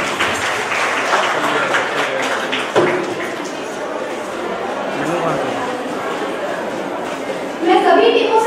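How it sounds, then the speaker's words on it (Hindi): An audience gives loud sustained applause for a team at a Nukkad Natak street play competition, with crowd chatter and voices mixed in and a fresh burst of clapping swelling at the end. "इनके लिए जोरदार तालियां हो जाए।"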